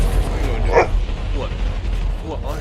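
A pit bull gives a few short barks and yips close by, mixed with whimpering and scuffling, while a person talks over and around them.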